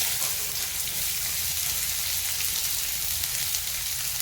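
Chopped onion dropped into hot oil with mustard seeds and cumin, a loud continuous sizzle and crackle close by, steady throughout.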